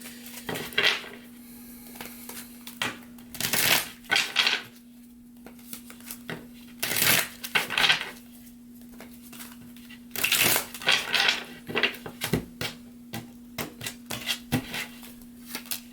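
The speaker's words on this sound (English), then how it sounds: "let's shuffle 2 more times here and then we'll get started with your reading" Tarot cards being shuffled in repeated bursts of riffling and slapping, alone over a steady low hum, several separate shuffles spread through the stretch.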